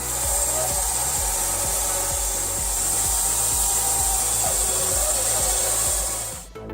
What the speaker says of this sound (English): The device easily saws quite large logs